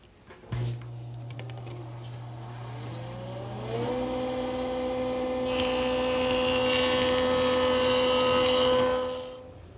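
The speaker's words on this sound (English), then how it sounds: "I'm going to bevel the bottom edge at 10 degrees using my joiner" A jointer motor starts with a thump and whines up to a steady hum, then the cutterhead bites into an oak board, adding a loud rasping roar that runs several seconds before easing off as the pass ends.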